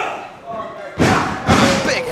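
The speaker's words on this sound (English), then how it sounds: "Big headbutt from James Ellis." Two heavy thuds land half a second apart as a wrestler's headbutt connects at a New Wave Wrestling show, each impact loud and boomy in the ring with crowd noise around it.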